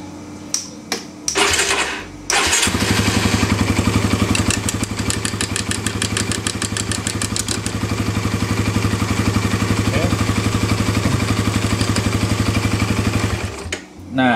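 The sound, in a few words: motorcycle engine starting and idling, mechanical clutch demonstration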